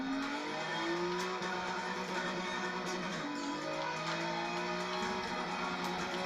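Ford GT supercar accelerating in Forza Horizon 3, a steady, loud engine drone with rising pitch sweeps as it gains speed and shifts, continuous throughout without talk.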